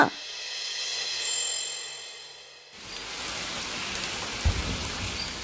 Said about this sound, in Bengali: কি ঝড় বৃষ্টি শুরু হলো রে বাবা, মনে হচ্ছে এবার বন্যা হবে